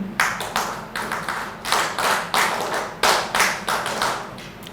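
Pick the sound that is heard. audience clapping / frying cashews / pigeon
audience clapping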